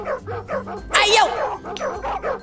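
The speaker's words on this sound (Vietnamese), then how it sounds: "có viên chó nó sủa các bạn ơi" Dogs in the Roblox video game bark and yip repeatedly in short, quick bursts, with a louder cluster in the middle. Talk continues underneath the barks.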